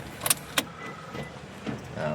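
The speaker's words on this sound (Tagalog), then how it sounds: "Ayan, on natin yung susi." A car key, on a Mitsubishi Mirage G4, clicks and jingles in the ignition with two sharp, close transients, followed by a low, steady background hum.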